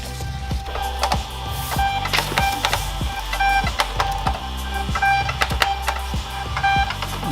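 A printer prints orders, and its rapid mechanical ticking and chattering clicks come in irregular bursts close by. The printing runs continuously over a low background hum.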